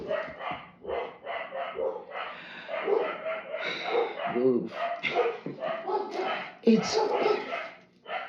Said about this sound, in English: cooking with barking dogs